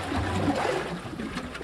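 A Wave Organ on the waterfront sounds as waves push through its pipes, making a hollow gurgling rush of water that swells and ebbs, fairly close and steady for a brief moment.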